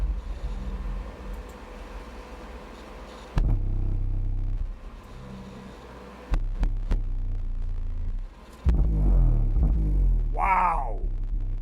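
Heavy bass throbs from a Seismic Audio SA 600.1L car amplifier driving a speaker on a dyno test bench, as loud sustained low pulses that start and stop in bursts, ending with a brief rising whine.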